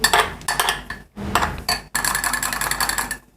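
Coffee powder, cocoa powder and milk being whisked in a bowl for a chocolate marble cake, brisk rattling spoon strokes against the bowl in short bursts with brief pauses, close and fairly loud.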